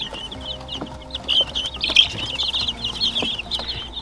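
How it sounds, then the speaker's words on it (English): Guinea fowl call in repeated harsh, chattering bursts close by, irregular and overlapping, with faint background noise and no talking. "So yes, the guineas are here."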